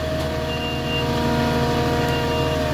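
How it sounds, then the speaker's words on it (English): A flatbed lumber delivery truck carrying a Moffett forklift idles with a loud, steady diesel rumble while its reversing alarm sounds a continuous tonal beep close by, with no voices. "And I'm gonna move the truck."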